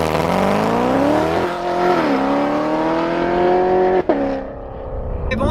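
Supercharged Lingenfelter 720 2016 C7 Corvette Z06 engine in a tunnel, a loud close, steady drone with rising and falling pitch as the car holds and shifts through revs, echoing off the walls.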